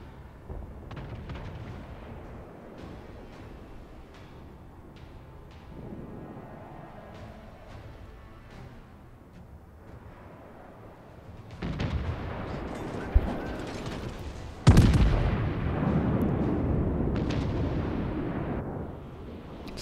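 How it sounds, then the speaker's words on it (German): Naval artillery rumbles in the World of Warships video game as battleship shells fire and land, with distant booms and a low background at first, then loud blasts and a heavy impact explosion that keeps roaring afterward. "kurz bevor die Granaten einschlagen"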